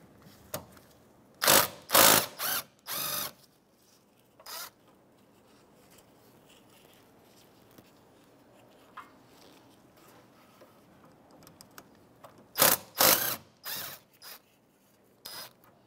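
Ratchet wrench loosening two 10 mm nuts on the A/C condenser line fittings of a 2011-2016 Hyundai Elantra, heard as two separate bursts of quick, close clicking, one near the start and one near the end, with quiet between.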